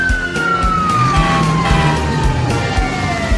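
A fire truck siren wails in a long descending sweep over rumbling traffic and rhythmic thumps, loud and close.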